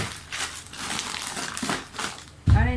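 Plastic bag crinkling as emergency supplies are packed ahead of Typhoon Hagibis in Japan, a sustained rustle through most of the clip ending in a louder, closer crunch.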